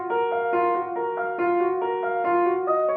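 A piano plays a slow melody of repeated chords with a retro wobble, reverb and compression, about seven even, sustained strikes, warm and wavering, with no voices.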